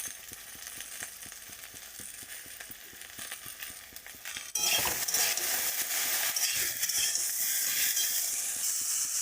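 Spices with turmeric, green chilies, ginger and salt stir-fried in a pan, starting with a quieter sizzle and rhythmic scraping strokes, then jumping into a loud, bright, crackling sizzle partway through.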